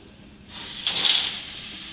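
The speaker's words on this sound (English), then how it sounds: "Steaks are going on. Listen to that sizzle." A loud, steady sizzle of ribeye steaks hitting a hot Monument Mesa 305 grill, starting abruptly with a bright hissing surge that settles into a constant crackle.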